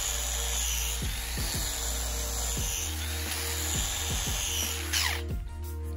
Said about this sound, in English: What I'm doing is I'm really trying to hold my grinder super flat.